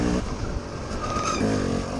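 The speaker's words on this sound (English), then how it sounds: "Thunderous 4-stroke" Four-stroke dirt bike engine revving hard during a hare scramble race in Kilburn Woods, a loud, continuous close-up engine roar with rising and falling throttle pitch throughout.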